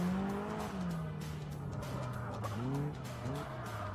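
A Caterham race car drifts at Brands Hatch, tires squealing in long wavering tones over a constant engine drone that rises and dips, heard at moderate distance.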